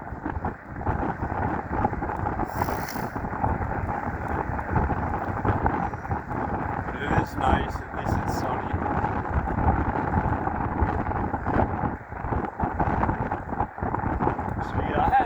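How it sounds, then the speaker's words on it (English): A cold northeast wind buffets the microphone of a moving electric bicycle, a steady, loud, broadband roar with gusting rumble that persists through the whole stretch. "That is a really cold northeast wind, let me tell you."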